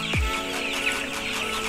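Broiler chickens fourteen days old cluck and chatter steadily throughout, a close, dense flock sound with a brief low thump at the start.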